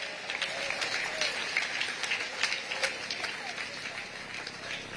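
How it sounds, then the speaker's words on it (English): Audience applause greeting the head of state at a presidential investors' conference, a dense continuous patter of clapping from a crowd, steady and fairly distant, with no speech over it. "round of applause to our head of state."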